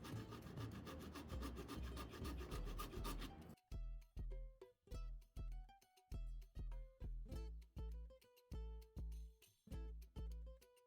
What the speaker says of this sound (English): I'm using my rotary tool and a little handsaw to cut out this opening.